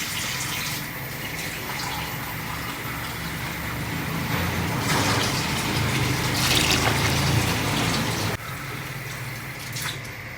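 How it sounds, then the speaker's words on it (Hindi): Water is poured into a cooking pot on a stove for falsa (phalsa) berry chutney, a steady, fairly loud rushing splash that continues throughout with small shifts in intensity. "ये 1 किलो पानी 4 गिलास मैंने पानी डाला"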